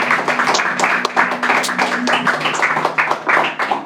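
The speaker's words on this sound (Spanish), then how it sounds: "aplaudan al Señor con gozo, con alegría" A church congregation clapping in praise, irregular scattered claps from many hands with some voices and tonal sound underneath.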